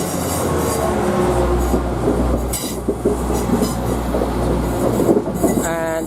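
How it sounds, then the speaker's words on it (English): TransPennine Express unit 185117 pulls out of Thornaby station, a loud, close diesel rumble with rhythmic wheel clicks over the rail joints and a brief squeal near the end. "And this is TransPennine Express."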